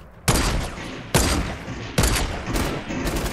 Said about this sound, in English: Where's the guy that's shooting at you?